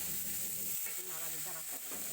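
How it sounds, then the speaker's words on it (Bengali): Taro stolons (kochur loti) fry in a pan with a soft, steady sizzle that stays fairly quiet and continuous throughout, with a faint hiss running underneath. "ঢাকা দিয়ে দিয়ে আমি একটু কচুরলতিটা ভাজা ভাজা করে নেবো"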